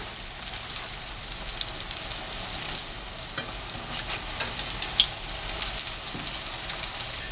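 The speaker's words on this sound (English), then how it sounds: "I'm just browning these up and putting a crust on them" Lentil Salisbury steaks fry in a pan to build a crust, giving a steady close crackling sizzle with scattered sharper pops throughout and no talking.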